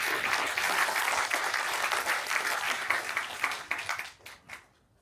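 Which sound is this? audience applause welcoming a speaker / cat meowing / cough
audience applause welcoming a speaker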